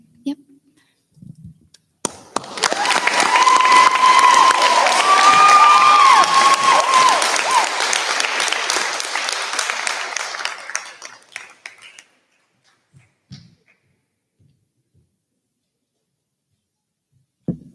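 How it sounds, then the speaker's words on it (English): A crowd at a senior thesis event at Logos Academy applauds and cheers for Ms. Montecchio, a loud swell of clapping and whoops that rises abruptly, holds for about ten seconds, then fades, with quiet gaps before and after. "Let's give Ms. Montecchio another round of applause"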